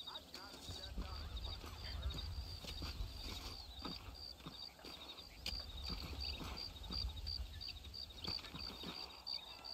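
Horse hooves clip-clop in Red Dead Redemption, a faint, steady rhythmic patter of steps under quiet game ambience and occasional voices.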